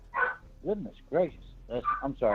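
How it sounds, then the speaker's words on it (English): A pet dog barks several times in short bursts nearby, loud and clear, while someone talks over and between the barks. "that's my dog"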